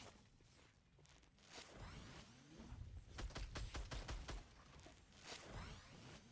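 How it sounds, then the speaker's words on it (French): Video game gunfire: rapid bursts of shots cluster in the middle of the clip, mixed with whooshing movement and footstep-like shuffles, with no talking. "Je sais pas sur qui il tire."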